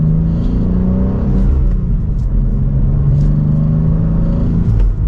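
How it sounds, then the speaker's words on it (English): A 2023 BMW M2 with a manual transmission revs steadily under throttle, its engine rumble sustained and loud throughout with a rising, droning tone and no talking. "So let's put it into M2 now and give it some gas."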